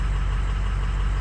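A Ford 6.0 diesel engine idles close by with a loud, steady low rumble and an even mechanical clatter, alone and unchanging over a second or so.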